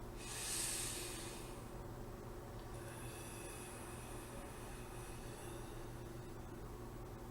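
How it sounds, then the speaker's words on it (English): A single deep meditative breath, a soft hissing inhale near the beginning that fades into a long, faint airy exhale, quiet and close over a low steady background hum. "Take a deeper breath."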